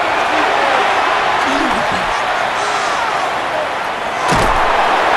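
Simulated stadium crowd at a Madden NFL 26 Washington Commanders versus New York Giants game, a loud steady roar building on third down with a thud near the end.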